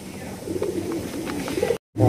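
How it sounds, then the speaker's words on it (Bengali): A pair of ordinary Giribaz pigeons coos steadily at close range, soft low murmuring calls running through the whole stretch before a brief silence and a louder burst at the end. "এই যে এখানে একজোড়া খুবই সুন্দর একজোড়া কবুতর"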